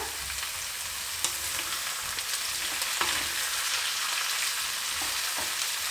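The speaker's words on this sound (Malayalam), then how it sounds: "അതേമാതിരി ചെറിയൊരു ലൈറ്റ് ബ്രൗൺ നിറം വരുന്നവരെ ഇളക്കി കൊടുക്കാൻ പോവുകയാണ്" Onions fry in a pan with a steady close sizzle while a spoon stirs them, giving a few soft scrapes and taps along the way, with no talk.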